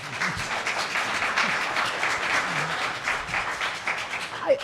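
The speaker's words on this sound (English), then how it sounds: "go ahead, applaud her" Scattered applause from a small crowd at a city council meeting, steady clapping for a few seconds with faint murmuring underneath.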